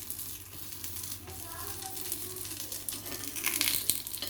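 Paniyaram batter fries in a pan, giving a soft sizzle and crackle with occasional scraping as the pieces are turned, quiet and close, with a steady low hum underneath.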